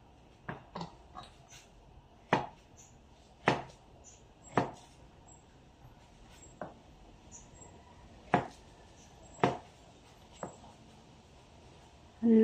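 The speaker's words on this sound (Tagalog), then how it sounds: "Ngayon naman, saging naman po yung hihiwain natin." A knife cuts through banana on a wooden chopping board in a quiet room, leaving about a dozen sharp, separate taps spaced a second or so apart.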